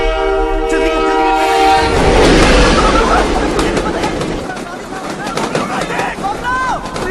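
A moving train blows a loud, near horn that sustains for a couple of seconds and then gives way to rumbling, clattering wagons, with people's voices and shouts over the noise.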